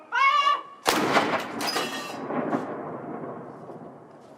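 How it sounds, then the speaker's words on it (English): A ceremonial gun salute fires from Edinburgh Castle on a clear day: one loud, sharp boom that rolls out and echoes across the city, fading slowly. A brief voice is heard just before the blast. "the gun is about to be fired"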